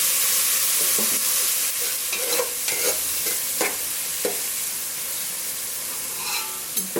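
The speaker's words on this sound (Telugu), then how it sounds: "ఒక టూ మినిట్స్ ఆనియన్ని వాటిని మొత్తం మగ్గనిద్దాం" Onions sizzle and fry in a pan for a Telugu bagara rice and chicken curry, with a spoon stirring and scraping through them in irregular bursts over a steady hiss, close and fairly loud, with no talking.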